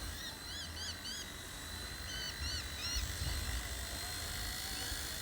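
Eachine E129 RC micro helicopter flying, a continuous high-pitched whine of small rotors and motor held at a steady pitch, moderately faint against light outdoor background noise.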